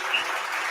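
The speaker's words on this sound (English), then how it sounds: "Give her a round of applause" Applause from a live audience welcoming a guest onto the stage of a podcast recorded on a main street in Andrews, South Carolina; a brief, steady wash of clapping.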